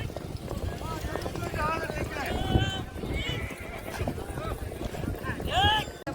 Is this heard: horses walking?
yes